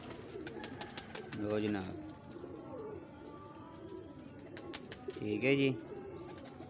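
Female pigeon cooing in two close, throaty bursts of a few seconds each, with someone talking between and over them.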